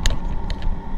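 Road traffic rumbling steadily near the scene of a gas explosion, a low continuous hum with a couple of brief higher hiss bursts, moderately loud and without talk.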